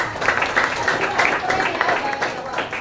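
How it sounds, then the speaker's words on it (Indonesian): Students in a classroom give a round of applause for a classmate, a continuous close patter of clapping with a few voices mixed in. "beri tepuk tangan untuk Aksa"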